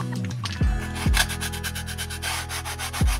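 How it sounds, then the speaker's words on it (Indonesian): A cutter knife shaves balsa wood for a free-flight aeromodelling wing, giving steady close scraping and rubbing strokes with a few sharper accented cuts, with no voices. "Serut menggunakan cutter saja."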